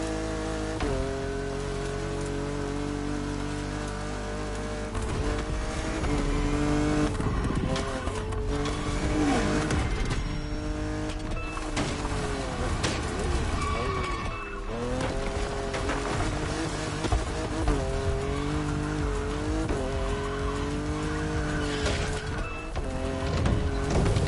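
A BMW Z4 M40i convertible races through the backcountry in The Crew Motorfest, its engine droning loud and continuous with rising and falling revs through gear changes, tire squeal appearing now and then, up close throughout.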